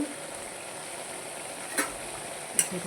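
Curry leaves and fenugreek leaves fry in oil with chicken for a Tamil Nadu-style chicken kurma, a steady close sizzle with a couple of sharp spits and pops.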